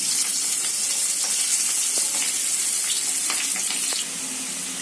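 Potatoes frying in hot oil in a pan, a steady bright sizzle with faint crackles and pops running throughout, close up and without talk.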